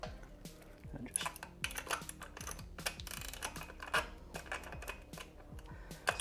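A wrench tightens the 10mm lock nut on a motorcycle chain adjuster, a rapid series of close, quiet ratcheting clicks in uneven bursts with small metallic knocks between them.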